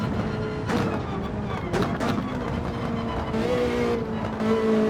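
A GT3 race car in Gran Turismo 7 revving near and loud, its engine note rising and falling with gear changes, steady and continuous with no talk.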